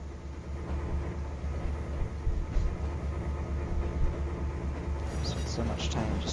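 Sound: freight train in Train Simulator video game

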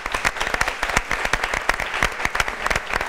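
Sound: studio audience applause

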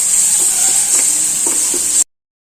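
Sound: cooked prawns stirred into sizzling onion tomato masala

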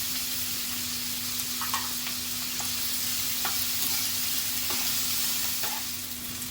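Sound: green chillies frying and stirred in pan

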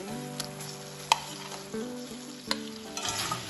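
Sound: fried flat beans being stirred with spices in oil

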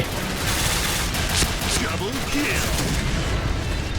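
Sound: gunfire in the video game Point Blank

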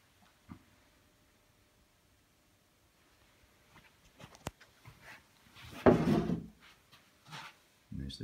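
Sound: wooden drawer with wooden knob opening or closing

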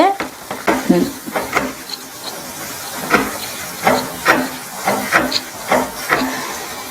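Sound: stirring and sizzling mango ginger pickle in a pan

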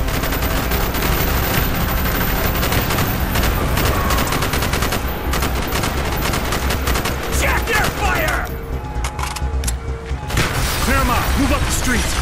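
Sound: gunfire in video game Call of Duty Black Ops

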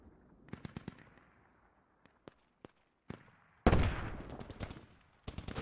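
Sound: mortar explosions in video game Squad

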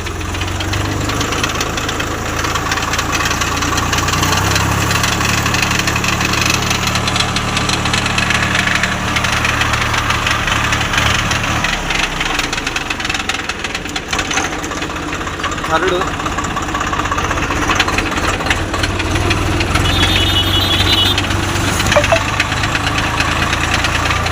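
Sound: Swaraj 744FE tractor gearbox noise while running in gear

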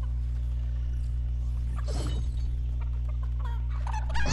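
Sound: chicken clucking in the video game Fortnite

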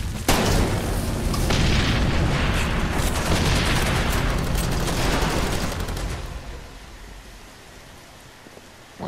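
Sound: gunfire from the video game Far Cry 2

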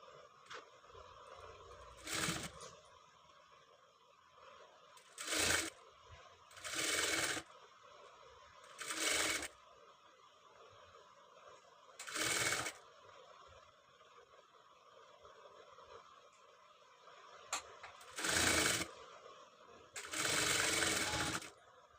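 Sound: sewing machine stitching a katori blouse

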